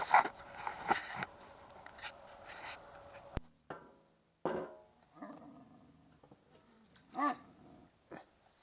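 A dog growls and grumbles in low rumbling bursts, with soft whimpers and scattered rustling in between, close by.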